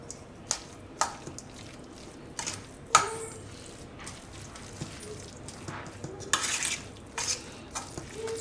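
Cooked green pigeon pea mash being stirred and mixed for Gujarati vada, with sharp scraping clinks of a utensil against a pot at irregular intervals over a soft, quiet background.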